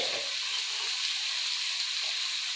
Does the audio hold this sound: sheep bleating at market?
no